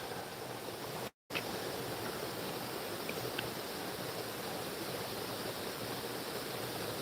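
River water rushes steadily at night, a dense, continuous hiss of flowing current heard close by, broken only by one brief dropout, with no voices over it.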